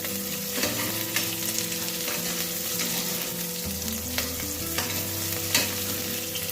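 Green chilli sautéing in oil for Bangalore-style sambar, a dense steady sizzle with intermittent stirring scrapes and light utensil taps, close and unaccompanied by speech.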